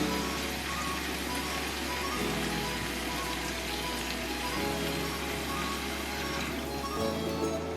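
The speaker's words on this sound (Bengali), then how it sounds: "প্রথমে আমি মশলা ধোয়া জল দিচ্ছি" Spice-washing water poured into a koi fish curry with turmeric and a little ground coriander makes a steady, rain-like watery hiss over a low hum, continuous and fairly loud for the whole stretch.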